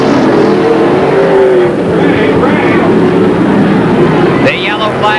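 Race cars roar around the Midwest Speedway oval in Lincoln, Nebraska, during a 1983 event, engine noise loud and continuous throughout as a commentator talks over it.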